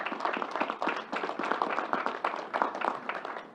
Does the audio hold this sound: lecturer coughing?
no